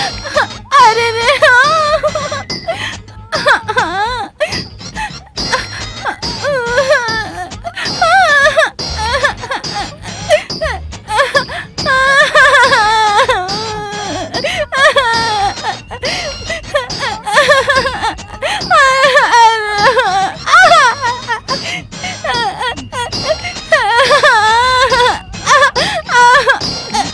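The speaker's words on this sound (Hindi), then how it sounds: "अंदर संगीत की बजाय रोने की आवाज आ रही है।" Wailing, sobbing crying drifts from inside a house in a Nagin movie scene, long rising and falling moans that continue with brief pauses, loud and emotional, with voices mixed in.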